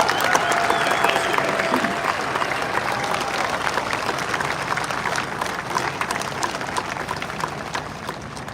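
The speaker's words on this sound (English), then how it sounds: "Let's give a round of applause to David" Big rally crowd at a Trump event in Butler, Pennsylvania applauds for David, a dense roar of clapping and cheering that starts loud and eases slightly as it carries on.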